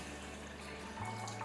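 Two cups of water pour from a vessel into a cooking pot for boiling diced raw mangoes, a soft steady splashing stream close by and fairly quiet, ending with a brief gurgle.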